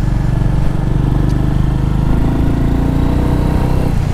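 A Royal Enfield Meteor 350 motorcycle engine thumps steadily at a low, even idle-like pace, a close, continuous throaty exhaust note with no voices.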